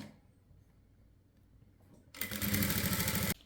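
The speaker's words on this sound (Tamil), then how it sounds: "தையல் போடுறோம்" A sewing machine stitches a blouse lining, starting abruptly after a quiet stretch and running as one loud, steady, close burst for about a second before stopping.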